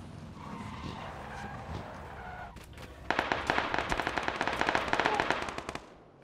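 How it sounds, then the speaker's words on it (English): Grenade explosions in the video game PUBG, a burst of loud, rapid blasts and crackling bangs packed close together after a quieter stretch of game ambience, fading out near the end. "Grenades."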